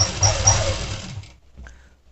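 A sewing machine stitches a blouse sleeve in a fast, steady whir that runs for about a second and then stops, close and fairly loud.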